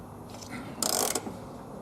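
A ratchet tightens a seatbelt bolt in a 2008 Ford F-250: one short, fairly loud burst of rapid close-up clicking, with quiet surroundings before and after.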